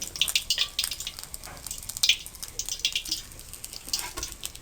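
Chicken pieces frying in hot oil, a crackling sizzle full of quick pops and spatters, close and fairly loud with no one speaking.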